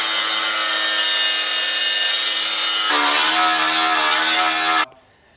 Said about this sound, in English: the OEM bolt, one-way bolt, so you have to cut out those bolts right there